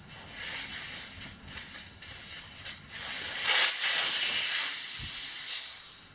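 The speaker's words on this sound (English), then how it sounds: "we're gonna go let the air out" Steady air hiss escaping from the valve of a Sur Ron Light Bee dirt bike's rear Kenda Trakmaster tire, filled to about 47 psi, swelling slightly louder midway and continuing alone for several seconds.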